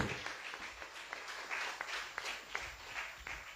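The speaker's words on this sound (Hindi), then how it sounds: "ताली नहीं बजाओगे क्या जोर से?" A church congregation claps during a sermon, a fairly quiet, uneven patter of hands with some sharper individual claps standing out against the room.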